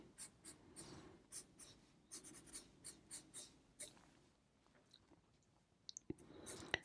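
A pencil sketching on paper, a close, quiet run of short scratchy strokes in an irregular rhythm, thinning out toward the end.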